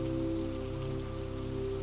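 A steady, dense patter of rain falls against a train window at night, continuous and even beneath a constant low rumble and hum from the moving train.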